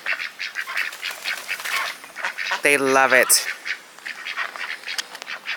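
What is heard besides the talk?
ducks quacking in the snow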